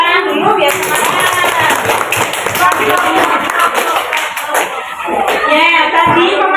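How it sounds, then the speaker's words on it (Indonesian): A class group clapping hands in a school hall during a dance lesson presentation, loud close claps mixed with children's voices and chatter throughout. "Dari tepuk tangan dulu biar semangat."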